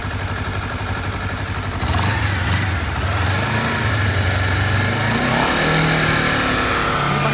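A Honda CBR 250 RR motorcycle on its original exhaust, in Sport Plus mode, revs loud and close with a rising, sustained engine note that climbs and holds.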